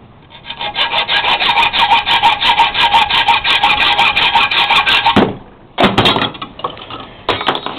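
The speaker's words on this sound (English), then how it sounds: "Right, now the sawing." Hand sawing through metal stock for Nuffield clutch retaining clips, loud rapid rasping back-and-forth strokes for about five seconds, a short pause, then further bursts of sawing close to the microphone.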